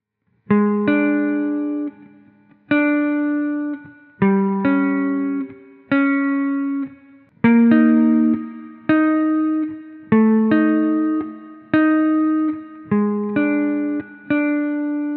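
Clean electric guitar plays sustained two-note chords, one after another at a slow steady pace, each ringing out briefly before the next.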